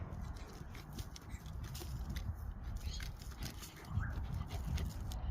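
Dogs in a garden make soft whimpers, pants and snuffles, faint and intermittent over a low outdoor rumble, with a brief murmur of voices.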